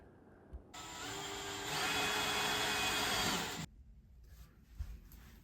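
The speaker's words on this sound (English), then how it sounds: "Now to actually screw in the trim into the wood, I used trim head screws." Trim head screws driven into wood with a drill for shower window trim, one sustained whirring drive of about three seconds that rises in pitch and cuts off abruptly, with quieter handling clatter before and after.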